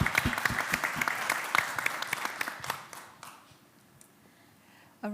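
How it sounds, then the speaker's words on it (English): Audience applause for a young student speaker at a G20 discussion forum, a dense burst of clapping that fades out over about three seconds, leaving quiet room tone before a voice starts at the end. "You deserve an applause for standing as a young student speaking up."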